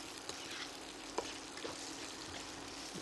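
Bell peppers (capsicum) sauté in a pan with a steady, even sizzle and a few faint clicks of stirring, nearby and without talk.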